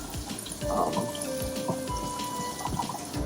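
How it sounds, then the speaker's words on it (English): Aquarium filter sponges being rinsed in water, with a continuous close splashing and trickling of water and occasional faint tones underneath. "I'm just gonna rinse all these sponges"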